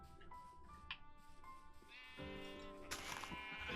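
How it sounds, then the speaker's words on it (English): Several Minecraft sheep bleats in a row, wavering and nasal, with a louder, longer bleat toward the end over a faint background. "Sheep sounds."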